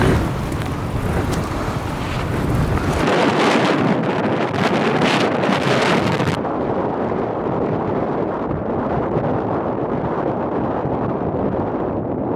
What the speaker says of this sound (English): Rather windy out there. It's a little tad windy.